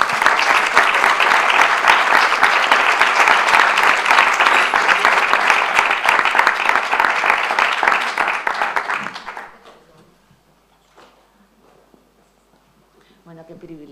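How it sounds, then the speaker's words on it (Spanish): A crowd applauds for a young girl dressed as the Infanta Margarita at a heritage education event, loud, steady clapping for about nine seconds that fades out, followed by quiet and faint voices. "Un aplauso para Mar"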